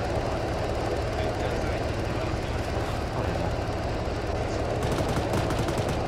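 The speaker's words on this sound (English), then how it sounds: "Where are the shots coming from?" Rapid gunfire crackles during a military video game mission with Israeli forces, a dense continuous roar with quick shots stuttering near the end, heavy engine-like rumble underneath and voices talking over it.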